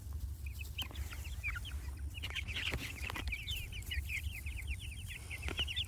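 Meat-bird chickens clucking and chirping close by in a coop, a dense run of quick overlapping calls over a low rumbling background hum.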